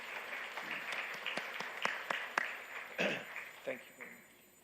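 Scattered applause from a conference audience for panelists, a few sharp claps standing out over a murmur of voices, fading toward the end.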